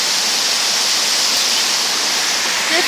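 A waterfall pours into a river with a steady, dense roar of rushing water that fills the whole stretch, loud and close, with no breaks or voices.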